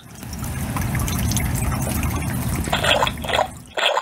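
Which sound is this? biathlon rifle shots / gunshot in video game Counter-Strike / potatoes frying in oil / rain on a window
rain on a window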